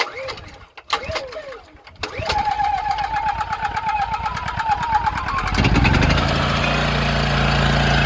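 A 1976 Chevrolet C20 square body truck engine coughs and fires up, then settles into a steady, loud running drone close by with rhythmic firing pulses, and no one speaks.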